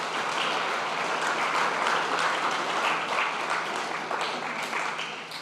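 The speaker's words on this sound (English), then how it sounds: "Give yourselves a round of applause." A crowd at a college space day event applauds itself, loud, dense clapping rolling steadily for several seconds with no voice over it.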